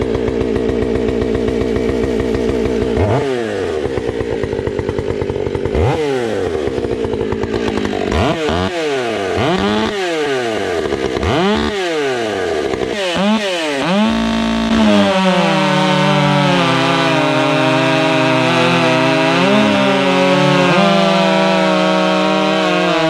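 A chainsaw fitted with a hand square-filed chain revs in a series of sharp bursts, then settles into a loud, sustained cut through wood, its engine note dropping under load and holding there close up.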